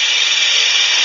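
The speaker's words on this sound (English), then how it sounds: "I'm using a spindle gouge. I'm back hollowing." A spindle gouge back-hollows a turning piece of wood on a lathe, making a loud, steady, close hissing scrape with no pause.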